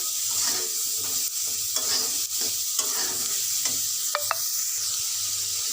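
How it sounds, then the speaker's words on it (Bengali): Chicken sizzles steadily in a pan of shallow oil while a utensil scrapes and stirs in a regular rhythm. "আমি অল্প তেলে ভাজছি এগুলো"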